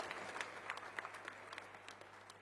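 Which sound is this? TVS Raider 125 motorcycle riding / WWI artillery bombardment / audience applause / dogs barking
audience applause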